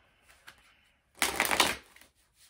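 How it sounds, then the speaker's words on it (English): Tarot cards shuffled by hand in one dense riffling burst of about a second, close and fairly loud, with a few soft card taps before and after. "let me give it a good shuffle"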